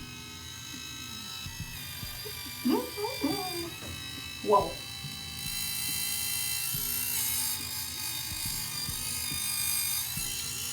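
Electric facial spin brush switched to its high speed, giving a steady buzzing whir throughout, with a few brief exclamations from a person over it.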